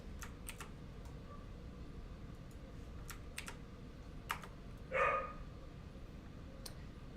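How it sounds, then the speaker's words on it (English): Dogs bark a few times in the distance. Brief yaps stand out against a quiet background, along with scattered clicks of keyboard typing. "Dogs."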